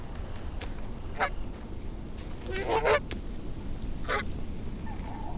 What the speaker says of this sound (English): It's best not to disturb a quiet goose.